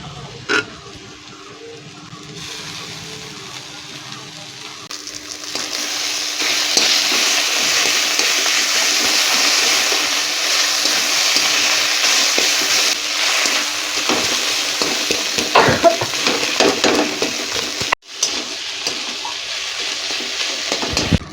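Taki fish frying in a pan with steady loud sizzling through most of the clip, the hiss swelling after fish hits the oil, with occasional stirring scrapes and clatters.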